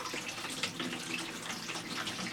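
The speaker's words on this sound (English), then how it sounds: "let's use the funnel here and try to get this water in there" Slightly warm water is poured through a funnel into a vintage Lortone NS/8 lapidary arbor, a steady soft rushing trickle that continues at low level throughout.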